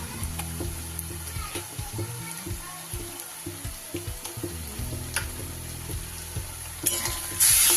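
Golden-red fried onions sizzle in a pan as ginger, garlic and green chili paste is added for a Bengali mutton curry, with a steady frying hiss, scattered stirring clicks and a sharp burst of sizzle near the end.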